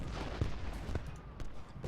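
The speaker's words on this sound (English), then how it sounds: "Alright, cannons are now firing." Repeated booming cannon shots in the video game Ultimate General: Gettysburg, in quick succession, some sharp and close, others duller and farther off, over a constant low rumble of battle noise.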